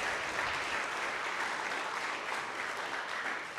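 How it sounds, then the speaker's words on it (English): A crowd applauds warmly, continuous clapping at an even level throughout with no voices standing out. "please give her another round of applause"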